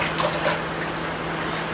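Water splashing and trickling onto raw chicken wings during kitchen prep, a soft continuous wet pour lasting under two seconds against a steady low hum, with no voices.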